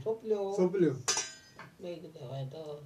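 A lid set down on a cooking pot during home cooking gives one bright metallic clink between stretches of conversation, with voices close by before and after.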